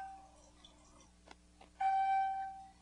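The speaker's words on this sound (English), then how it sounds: "The machine will go into self-cleaning mode indicated by the chime you just heard" A Melody water ionizer sounds a clear electronic chime as it enters self-cleaning mode: a few faint soft clicks, then a single sustained bright tone that rings steadily near the machine and fades slowly, with no talking.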